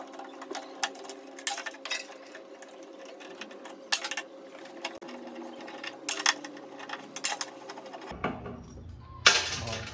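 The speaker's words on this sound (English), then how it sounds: "Then you got 1, 2, 3, 4, 5 screws you gotta loosen" Screws are loosened on a Suzuki GSX-R motorcycle fuel pump with a steady whirring mechanical hum and scattered sharp ticks and clicks. A deep thud and a brief rattle come near the end.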